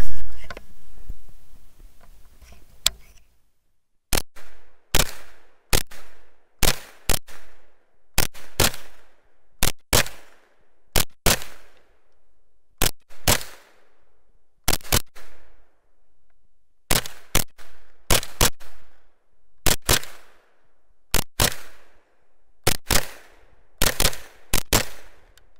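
A Foxtrot Mike FM9 10.5-inch 9mm side-charging AR pistol fires a full 30-round Glock magazine, loud sharp shots ringing out in a rapid, uneven string of single and paired bursts for over twenty seconds.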